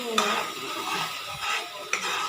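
Spice paste of ginger, cumin, tomato, cashew, melon seed, poppy seed, cardamom, clove and cinnamon being stirred and fried in a pan for chhana kofta curry, with a soft sizzle, scraping strokes and a couple of sharp utensil clinks.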